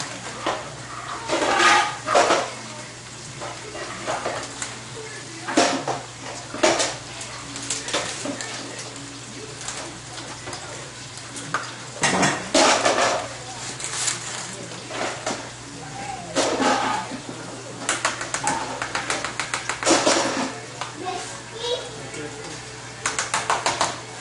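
Meatballs and gravy are mixed in a pan, with intermittent clinks and scrapes of a utensil against metal between stretches of talking.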